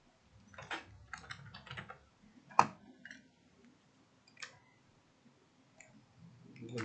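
Keystrokes on a computer keyboard while typing text, a few scattered bursts of quick clicks with short pauses and one louder key strike, close and faint in a quiet room with no talk.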